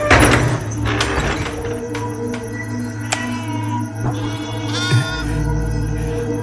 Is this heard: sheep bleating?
yes